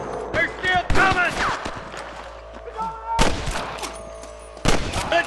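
Gunfire in a Red Dead Redemption shootout, several sharp shots cracking out in separate bursts, some close and loud, mixed with voices shouting over the action.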